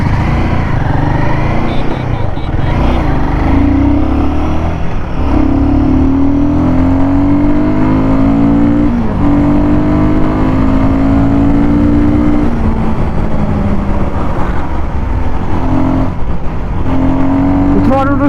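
A Royal Enfield Guerrilla 450 motorcycle accelerates through the gears on the road, its loud engine repeatedly rising in pitch and dropping at each shift under heavy wind noise, with a voice talking at times.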